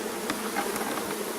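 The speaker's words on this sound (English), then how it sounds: "a bucket of bees." Bees buzz in a dense, continuous drone, close and fairly loud, with individual insects flitting by.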